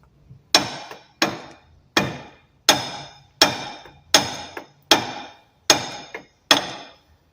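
Nine heavy, evenly spaced hammer blows strike the knuckle and front CV axle of a 2002 Ford Ranger 4WD. Each blow is sharp and ringing, with short pauses between.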